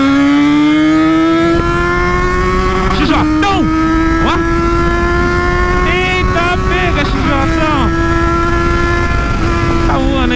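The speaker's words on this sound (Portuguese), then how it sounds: "Posso esticar a moto agora aqui?" A Yamaha XJ motorcycle engine revving loudly and close, the pitch climbing and holding in a sustained high whine, with sharp blips and people talking over it.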